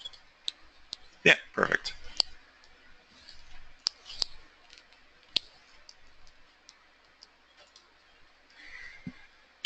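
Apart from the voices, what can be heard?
computer mouse clicking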